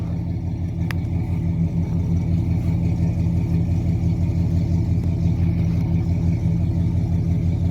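A 1968 Pontiac 400 V8 idles roughly and a little unevenly through welded or Flowmaster Delta 40 Series mufflers, a steady close, loud low rumble with a brief click early on.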